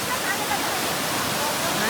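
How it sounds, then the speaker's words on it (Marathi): Waterfall at Tamhini Ghat in the monsoon, a dense continuous roar of falling water filling the surroundings, steady and loud with a faint voice underneath. "पाण्याचा आवाजच एवढा खूप आहे."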